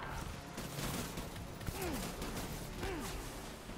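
Suppressing gunfire in the video game Death Stranding, a dense continuous crackle of rapid shots layered with game ambience and a few whooshing effects, moderately loud with no talking.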